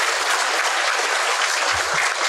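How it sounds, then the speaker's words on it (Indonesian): A Buddhist Dhamma talk audience bursts into steady, dense applause that fills the whole stretch at close range, with no pause and no voices. "tepuk tangan dulu Bante"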